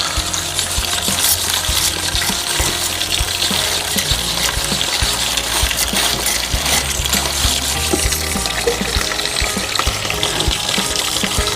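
Food sizzling as it fries in a pan outdoors, a continuous bright crackle and hiss with scattered pops holding steady at close range, with no talking.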